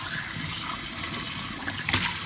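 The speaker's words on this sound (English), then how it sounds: "So here's the kitchen sink. I get a little warmer water running through here" Warm water runs steadily from a kitchen sink tap at some speed, making a continuous hiss and splash with a brief louder splash near the end.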